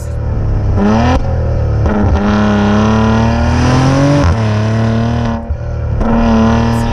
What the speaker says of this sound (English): This is one of the few turbocharged engines, which is actually a relatively small engine, that actually they've managed to sound really good.